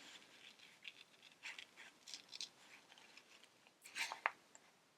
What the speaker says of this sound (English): You're going to want to move your paper instead of your scissors.